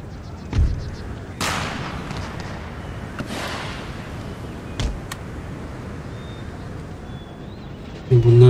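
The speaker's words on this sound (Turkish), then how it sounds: "Top atışlarına da başladılar." Cannon fire booms in Empire: Total War, a few separate distant artillery blasts spread through a battlefield soundscape, with a voice speaking near the end.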